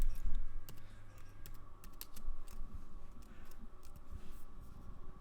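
Computer keyboard typing with scattered mouse clicks, steady light tapping throughout at moderate level while editing a Google Sites page, no speech.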